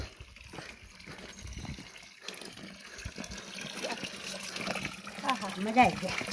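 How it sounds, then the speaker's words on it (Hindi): Water welling up out of the ground beside a very old, large tree in a village, a soft gushing trickle that swells toward the end, with faint voices nearby. "ज़मीन के अंदर से पानी निकल रहा है।"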